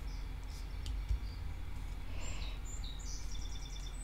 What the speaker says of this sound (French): Les oiseaux sont contents. Je les entends chanter.